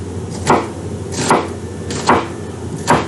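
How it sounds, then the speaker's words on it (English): A knife chops through an onion on a cutting board in four evenly spaced, fairly loud thuds, each about three quarters of a second apart, with no talking. "we're going to cut this onion up"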